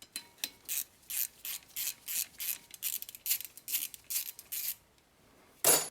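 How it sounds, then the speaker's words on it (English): A ratchet clicks in rapid bursts of strokes while the rotor torque bolt is loosened on a Chevrolet Silverado hub, crisp metallic ratcheting close by, then a pause and one last burst. "There's a little torque bolt here that holds the rotor onto the hub assembly. So I'm gonna remove this bolt."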